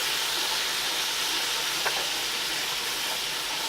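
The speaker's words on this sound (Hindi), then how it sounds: "इसके अंदर हम जिंजर गार्लिक पेस्ट ऐड कर देंगे। इसे हल्का सा सौटे कर लेंगे।" Ginger garlic paste sautés in hot oil with garam masala for a spicy chicken biryani, a steady soft sizzle and hiss running evenly throughout with one faint brief tap midway.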